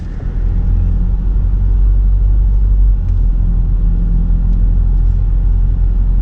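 A car engine rumbles steadily and loudly while the car is being parked, heard as a constant low drone with no break.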